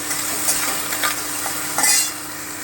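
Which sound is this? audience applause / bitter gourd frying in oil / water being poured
bitter gourd frying in oil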